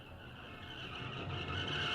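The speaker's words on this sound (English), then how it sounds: "Dazzling headlights, a deafening honking, the noise of an anxiety-including squeal" A car horn and squealing tires from a visual novel road scene, a sustained tonal blare over a rising, roaring rush of traffic noise that grows louder toward the end, with no voices.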